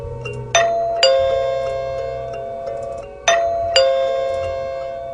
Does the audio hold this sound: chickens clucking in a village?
no